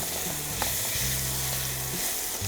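Jujube chutney with turmeric being stirred in a pan, a steady close sizzle with soft scraping strokes running throughout, no talking.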